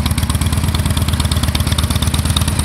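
A 2009 Harley-Davidson Dyna Low Rider with a 96 cubic inch rubber-mounted motor idling nearby, a loud, even, loping thump with mechanical clatter on top.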